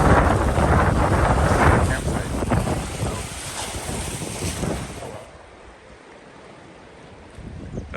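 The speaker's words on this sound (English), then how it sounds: "See these waves." Rough waves and gusting wind buffeting a canoe on the Makobe River, loud splashing and microphone wind noise that surge for several seconds, then drop to a quieter wash before picking up again.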